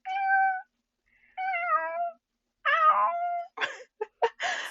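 A human voice imitates kitten meows in a close, clear series: several drawn-out mews, then a cluster of short, sharp squeaky mews.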